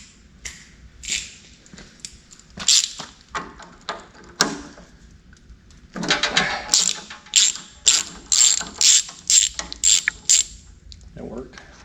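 Socket wrench ratcheting on a 2005 American Eagle RV generator, a series of quick clicking ratchet bursts, close and fairly loud, with a few clanks of tools in between and no talking.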